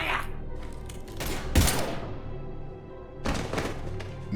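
Bursts of gunfire in Mass Effect 3 come as a few sharp, loud cracks and thumps separated by short gaps, amid game ambience.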